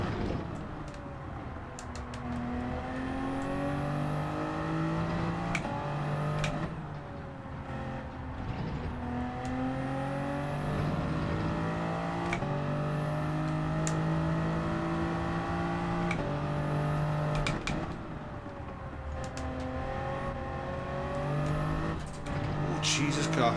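A Toyota Supra Group 3 race car in Gran Turismo 7 at Circuit de Sainte Croix, its engine droning and rising through the gears with repeated shifts and revs, a continuous loud motor tone with a voice talking over it.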